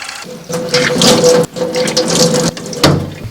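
Water is poured and splashed from a bucket while washing up at a country house with no running water, loud close sloshes broken by short pauses.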